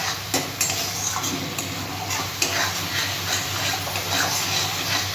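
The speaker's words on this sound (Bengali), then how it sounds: "মশলাটা আমি ভালো করে কষিয়ে নেব।" Spice paste with Kashmiri chili being sautéed in a pan for a singhi fish and eggplant curry: a steady sizzle with the scrape and tick of a spoon against the pan throughout, close and fairly loud.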